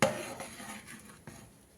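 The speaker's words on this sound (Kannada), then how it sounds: "ಇವಾಗ ಪುಡಿ ಹಾಕಿ ಕಲಿಸ್ತಾ ಇದ್ದೀವಿ." Spice powder being stirred into puliyogare mix in a pot gives a few soft, close scraping and clinking touches of a spoon against the vessel, quiet and brief, with no talking.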